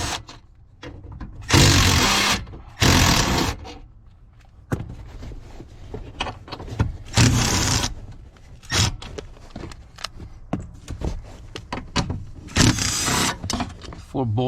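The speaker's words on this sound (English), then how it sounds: "the next thing that we need to do is to remove these three four bolts" A power tool whirs in several short bursts while 8mm bolts are removed from a bracket on a 2004 Ford F150 during a shift cable replacement, with clicks and scrapes between the bursts.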